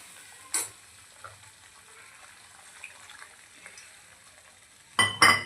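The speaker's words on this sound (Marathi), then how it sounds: "आता यात आपण पाणी ॲड करूया" Water is poured into sizzling mutton boti in a pan, with a quiet, low frying hiss between a first splash and two loud bursts of sizzle and splashing near the end.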